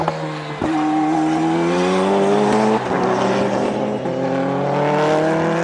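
The Hondaghini, a race car powered by a Honda K20 engine, screams past on a racetrack, its loud high-revving engine holding steady tones with quick shifts and pitch changes as it passes close by.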